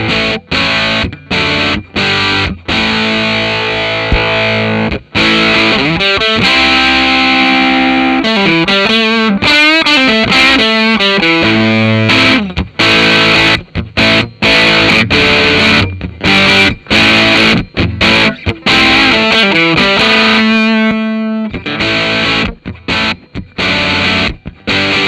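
An electric guitar runs through a Thorpy FX Veteran Silicon fuzz pedal set as a loud boost, playing chords and bending lead phrases with thick, saturated distortion and sharp stops between bursts, loud and close throughout.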